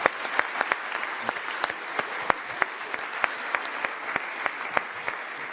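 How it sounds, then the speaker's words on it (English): Audience applause in Bled Festival Hall at the Bled Strategic Forum: a hum of clapping punctuated by sharp, distinct individual claps at a fairly even rhythm, moderately close and without speech. "please a round of applause"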